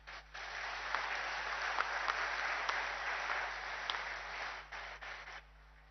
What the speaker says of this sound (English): Have some claps.